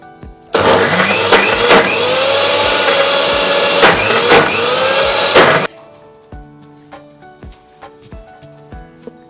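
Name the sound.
mixer grinder grinding gongura chutney with garlic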